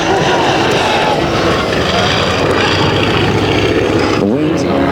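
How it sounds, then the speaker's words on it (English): A vintage WWI-era biplane engine roars loudly and continuously at a Fauquier County, Virginia air show, its pitch surging and wavering as the throttle is jockeyed during a low pass. "And jockeying the throttle, pretending a Waldo Pepper crash"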